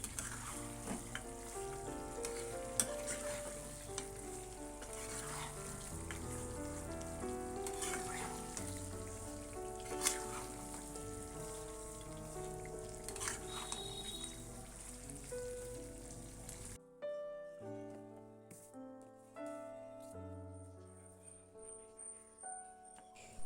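Spinach fries and gets stirred in a pan with spices, giving a soft continuous sizzle with scattered scraping taps, fairly faint and close, before dropping to quieter, sparser kitchen sounds near the end.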